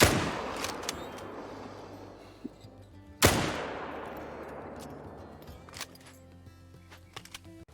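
In theHunter: Call of the Wild, two loud rifle gunshots aimed at a saltwater crocodile crack a few seconds apart, each followed by a long rolling echo that decays slowly against quiet outdoor ambience.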